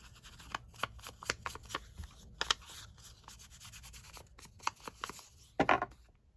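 Ink pad dabbed and rubbed along torn paper edges of a junk journal pocket book, giving soft repeated brushing taps in an uneven rhythm, close and quiet, ending with a louder scuffing rub.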